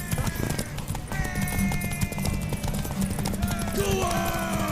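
Hooves clip-clop in a quick galloping rhythm as a horse races toward a tower in The Witcher 3: Wild Hunt, loud and close, with game music and brief shouted voices layered over it.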